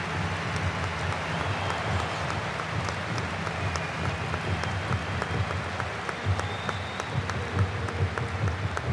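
Eintracht Frankfurt fans give a substituted player warm applause during a DFB-Pokal cup match against RB Leipzig, a broad, continuous stadium roar of clapping carrying on at an even level for several seconds.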